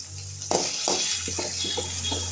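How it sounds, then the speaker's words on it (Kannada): Onions frying in a pan for beetroot palya, a low steady sizzle joined by a run of scraping, stirring strokes after a sudden start, close and without speech. "ಸ್ವಲ್ಪ ಈರುಳ್ಳಿ ಟ್ರಾನ್ಸ್ಪರೆಂಟ್ ಆಗುವವರೆಗೂ ಫ್ರೈ ಮಾಡ್ಕೊಳ್ಳಿ."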